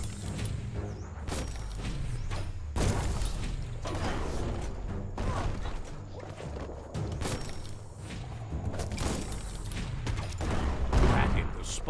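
Bomb lobber weapon firing in the game Biomutant: repeated thumping launches and blasts with mechanical clanks, dense and loud throughout, layered over game action.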